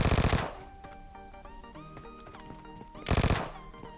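Two bursts of rapid automatic gunfire in PUBG Mobile on the Miramar desert map, loud and close, separated by quieter in-game sounds and music.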